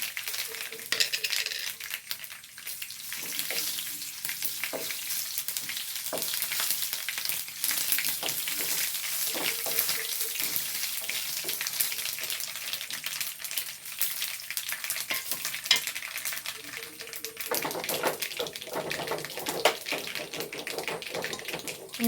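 Red chillies crackle in hot tempering oil for sambar, a loud, continuous hiss that runs for about twenty seconds with scattered pops and stirring scrapes, and no speech.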